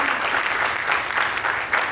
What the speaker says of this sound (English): can we just give the panel a big round of applause?